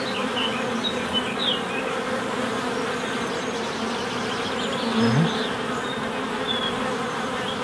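Dense, continuous buzzing of many honey bees swarming close around a hive during queen rearing, steady and loud without pauses.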